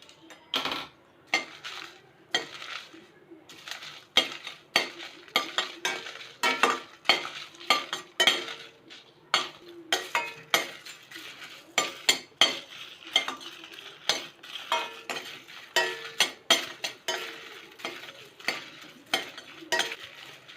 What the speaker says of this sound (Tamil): இப்போ காஞ்ச மிளகாய் ஆட் பண்ணுறேன். இது கூடவே கருவேப்பிலையும் போட்டுக்கலாம். ரெண்டுமே ஒன்றா வதக்கிக்கலாம்.